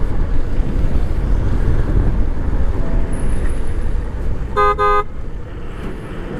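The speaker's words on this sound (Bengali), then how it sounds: "ট্রাক আছে দেখেন" A truck passes on a rainy road in Bangladesh, its engine and tyre rumble loud and close under gusting wind, followed by one short double blast of a horn.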